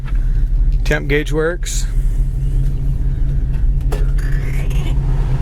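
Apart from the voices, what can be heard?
1973 Chevy Nova SS engine running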